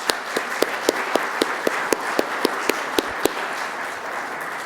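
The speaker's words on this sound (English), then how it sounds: "Can I have a round of applause to welcome our panel?" An audience at a business panel event applauds to welcome the panel, a steady patter of many hands clapping at moderate volume with sharper individual claps standing out, lasting several seconds.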